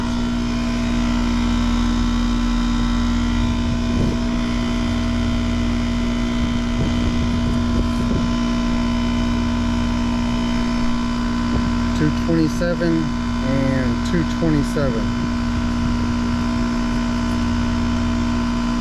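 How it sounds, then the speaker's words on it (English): A failing HVAC compressor running without building any pressure differential, giving a loud, steady low hum and drone throughout, close by, with someone briefly speaking numbers over it. "From those noises, I think it's a compressor with no pressure differential"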